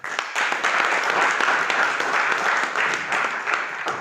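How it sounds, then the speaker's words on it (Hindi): Loud, sustained clapping from a crowd at a cow protection awareness event at Jiwaji University in Gwalior. A dense wash of applause is heard as foundation members are called onto the stage. "उनके लिए जोरदार तालियां आप लोग बजा दें एक बार"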